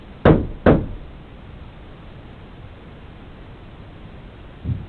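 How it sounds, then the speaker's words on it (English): Knocking played back from a recording made in a haunted hotel room: two sharp knocks in quick succession over steady hiss, then a fainter single knock near the end. "Was that one knock then?"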